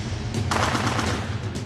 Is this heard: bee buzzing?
no